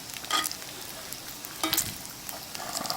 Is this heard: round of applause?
no